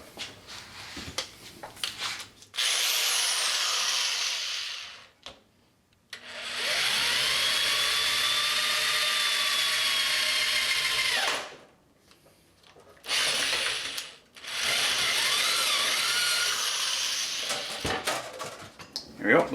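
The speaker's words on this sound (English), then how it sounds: "going to be drilling a hole against this very thin material" A power drill bores a hole through the thin metal of a lunch box guitar body, three loud sustained whirring runs with brief pauses between them and a pitch that shifts as the bit cuts.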